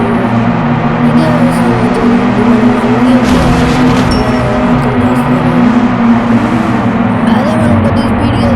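An F1 car engine in a racing video game, a steady droning whine with pitch sweeping up and down as the car accelerates and shifts, constant and loud across the whole stretch.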